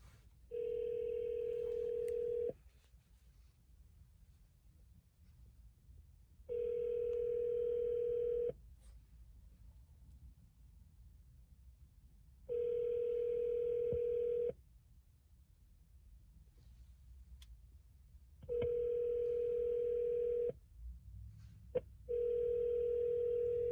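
Outgoing phone call ringing to a customer while a delivery driver waits outside, with four regular ringback tones in repeating bursts and short pauses between them, clear and steady over a faint background hum, no talking.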